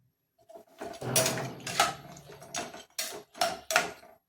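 A pressure cooker lid is fitted and closed over bones simmering for Chettinad-style bone kuzhambu, giving a series of close metallic clanks and scrapes, with sharp knocks toward the end.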